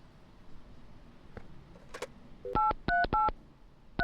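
Phone keypad tones from the Mon Bazou video game: a few faint clicks, then four loud, evenly spaced dial beeps as a number is entered.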